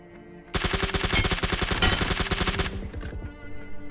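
Rapid automatic gunfire from PUBG Mobile, a loud, dense burst of evenly spaced shots lasting about two seconds, then a few scattered shots trailing off.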